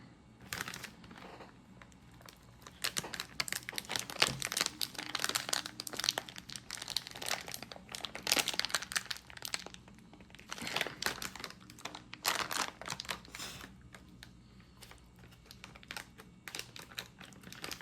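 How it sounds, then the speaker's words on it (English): A bag of Famous Dave's jalapeño cornbread mix being pulled and torn open by hand, giving close, busy plastic crinkling and crackling in repeated bursts for many seconds, with short quieter pauses and no speech. "Now if I can get the bag open"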